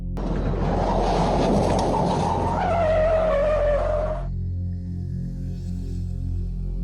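A car skidding and spinning on a highway near Waverly, Kansas, caught on dashcam: a loud continuous tire screech rising into a squealing whine, then cutting off abruptly to a quieter engine hum.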